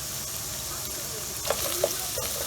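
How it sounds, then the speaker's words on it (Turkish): Steady sizzling of chopped carrots sautéing with meat in a pan, with a few sharp scrapes and taps of a utensil stirring the food, close by. "Ve 3-4 dakika kadar kavurup havucun rengi geçsin."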